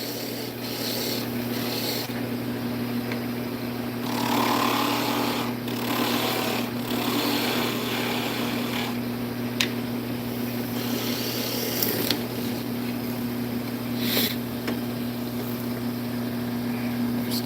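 A power drill boring all the way through small wooden pen blanks, a steady droning whir with sustained tonal hum and rasping chatter at moderate level, sounding continuously without pauses.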